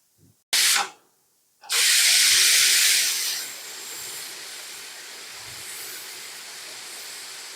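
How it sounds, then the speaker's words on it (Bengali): Steam vents from a pressure cooker of kacchi biryani in two loud hissing blasts, a short one and then a long one, before it settles into a softer steady hiss. "এখন আমরা কাচ্চিটার ভাপটা বের করে নিচ্ছি"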